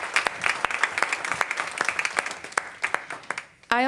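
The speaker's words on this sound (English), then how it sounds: "Let's give those schools a round of applause." School board meeting audience applauding schools, a burst of brisk clapping with distinct sharp individual claps, fading at the end where a brief voice comes in.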